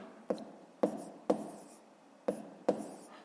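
Pen writing numbers by hand on paper for a fifth-grade fraction exercise: five sharp taps and strokes spaced irregularly, close and clear, each trailing into a soft scratch.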